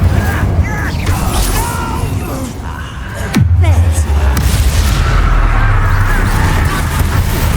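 Incendio fire spell cast in the Hogwarts Legacy game, a single sharp blast midway that sets off a deep rolling rumble continuing to the end, loud amid layered combat noise with a voice talking.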